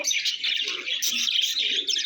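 Many small caged finches and lovebirds chirp and tweet busily at once, a bright, high-pitched chatter with a faint low murmur underneath.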